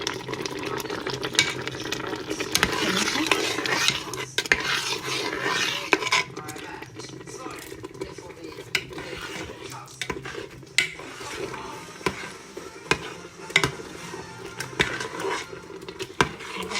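Gooseberry jam boiling in a pot, a soft bubbling and stirring texture with spoon clinks and scrapes against the pot, close by, fading somewhat after the first few seconds.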